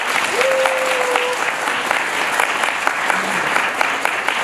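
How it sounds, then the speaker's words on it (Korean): Church members gathered for a sports day clap loudly and steadily for several seconds, with a few voices and a brief whistle-like tone rising over the dense applause. "영광의 박수 한번."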